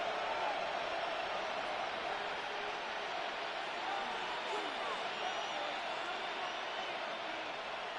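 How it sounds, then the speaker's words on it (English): A football stadium crowd during a Steelers game keeps up a steady, distant roar late in the game, a broad wash of massed voices with no single sound standing out. "Listen to this crowd."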